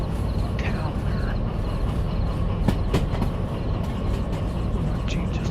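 Freight train with a caboose rolling slowly through a town in a night-haul train simulator game, a steady low rumble with faint clicks and clanks, heard alongside someone talking.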